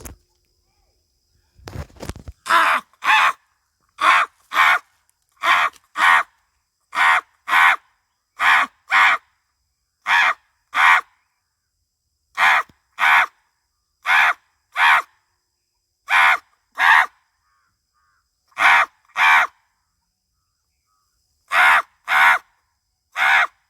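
Crows caw loudly and clearly in a long series of separate calls spaced a second or two apart. The calls are near and have no other sound behind them.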